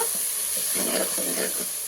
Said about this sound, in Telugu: పది నిమిషాలు బాగా వేగింది ఈ టమాటా